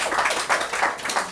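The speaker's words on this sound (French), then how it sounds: "Et je pense que ça mérite qu'on l'applaudisse." Audience applause at a ceremony attended by a government minister, a short burst of close, loud clapping with a few distinct rhythmic surges.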